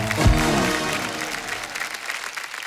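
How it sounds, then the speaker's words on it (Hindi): Loud studio audience applause on a Hindi comedy show, a dense sustained wash of clapping that starts strong and tapers slightly, with a brief low thump near the start. "जोरदार तालियां हो जाए रिया भाई के लिए।"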